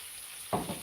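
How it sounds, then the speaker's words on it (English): Chicken pieces frying in hot grease break into a sudden burst of sizzling partway through, close and fairly loud, after a near-quiet start. "But that's my chicken. It's frying."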